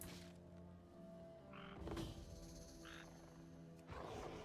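A frog-like creature in World of Warcraft gives two brief croaks over a low game soundscape with ambient music and other effects.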